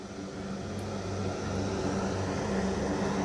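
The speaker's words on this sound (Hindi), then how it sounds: "लगातार जो एयरफोर्स के जो विमान है उनके लैंड करने का सिलसिला भी चल रहा है।" An Indian Air Force C-130J Super Hercules comes in to land. A steady, distant engine drone and roar that builds slightly over a few seconds, with no talk.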